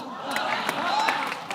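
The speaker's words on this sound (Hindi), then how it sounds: "एक बार हेजल के लिए जोरदार तालियां" An audience on an Indian comedy show claps and cheers, a brief dense burst of applause filling the room.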